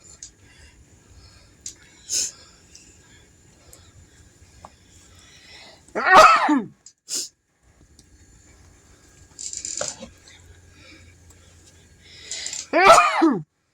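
A person sneezes repeatedly in a kitchen, with several sharp, forceful bursts spaced seconds apart, some preceded by short sniffs or breaths, close and loud against a quiet background.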